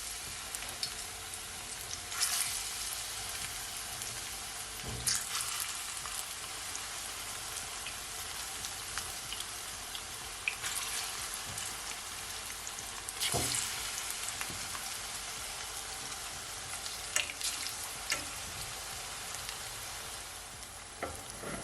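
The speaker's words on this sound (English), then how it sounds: "So now I'm gonna fry my plantain." Ripe plantain fries in vegetable oil in a pot, a continuous fine crackling sizzle like light rain, with occasional sharper pops; steady, close but quiet, with no talking.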